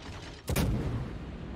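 A single heavy broadside boom from a warship's guns in World of Warships bursts in sharply, then rumbles and decays over a low, steady background.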